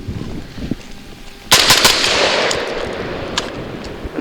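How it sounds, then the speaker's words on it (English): A Genesis Arms Gen 12 semi-automatic shotgun fires 3-inch shells, a sharp loud blast followed quickly by a few more rapid shots and echoing reverberation, preceded by quiet handling noise. "we'll see how the gun runs on this 3-incher"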